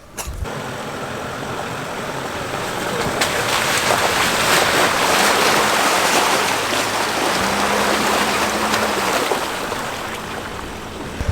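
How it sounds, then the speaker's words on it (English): A Ram ProMaster camper van ploughs through a big puddle at a campsite, a long loud wash of splashing water swelling over a steady engine drone and fading as it clears, with no talk. "So I'm gonna drive the van through a big puddle."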